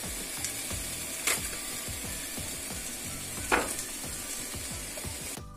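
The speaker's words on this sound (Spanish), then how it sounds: "Vamos a poner un poquito de aceite al sartén. Llevamos la cebolla para que se dore ligeramente." Onion sizzles in a little oil in a frying pan, a steady close crackle with a rhythmic scraping stir throughout and occasional louder pops.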